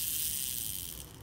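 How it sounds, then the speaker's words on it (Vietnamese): Daiwa size 2000 metal spinning reel with four ball bearings, its ratchet giving a brief, dense run of fine clicks as the handle is cranked, close and fairly faint, with no talking. "Đây là tiếng máy khi mà mình quay nè."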